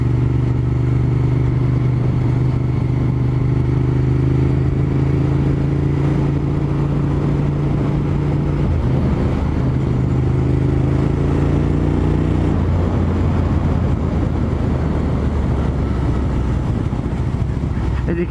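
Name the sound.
motorcycle engine with exhaust revving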